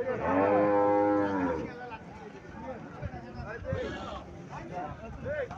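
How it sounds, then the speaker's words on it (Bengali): A Friesian dairy cow gives one loud, drawn-out moo close by, followed by farmyard movement and someone talking. "এখানে আরো একটা গাভী দেখা যাচ্ছে, ফ্রিজিয়ান জাতের গাভী।"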